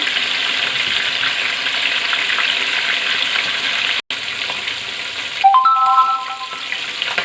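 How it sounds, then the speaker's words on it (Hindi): Chicken pieces for Saudi mandi sizzle and hiss steadily in a frying pan; near the end a short electronic chime rings over the frying. "दो पीस करके फ्राई करेंगे।"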